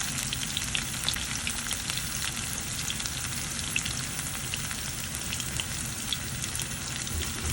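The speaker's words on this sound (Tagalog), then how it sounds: "Garlic at saka onion kay ginisa natin." Garlic and onion sauté in a hot pan, giving a constant close, bright sizzle with fine crackling and no voices.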